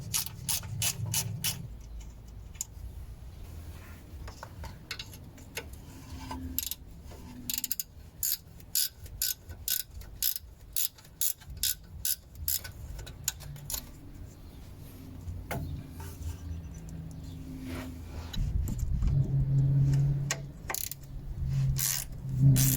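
A hand ratchet loosening 10mm oil pan bolts on a 1999-2004 Nissan Xterra V6 4WD, with rapid clicking pawl runs in short regular bursts, close up, followed by louder scraping and clunking of metal parts.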